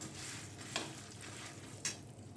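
Chana dal and urad dal dry roasting with chillies in a pan, a soft steady crackle and scrape of stirring with a couple of sharper rattling bursts, close and alone without talk.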